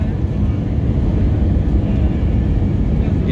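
A fixed-wing airliner touches down on the runway at Gibraltar, a loud, steady roar of engine and wind noise heard from inside the cabin for a few seconds without a break.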